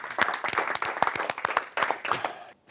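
Small group in a training session giving a round of applause, a handful of close, distinct hand claps in an uneven patter that continues for over two seconds, then stops abruptly.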